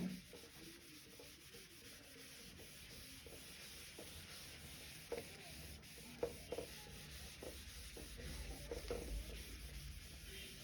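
Faint rubbing of a duster or cloth across a board to erase it during an engineering surveying lesson, a soft continuous scrubbing with a few light knocks, no voices.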